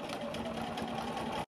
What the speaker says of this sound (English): Lower your pressure foot and sew.